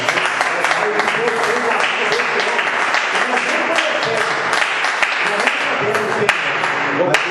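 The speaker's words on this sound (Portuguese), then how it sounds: "Que a igreja dê uma salva de palmas." A church congregation applauding, with steady, loud clapping from many hands running throughout, blended with raised voices and vocal sounds.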